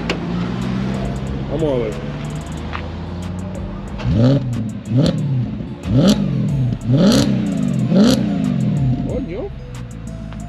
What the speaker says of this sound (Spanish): Aceléralo ahí, vamos a ver cómo suena la moflería.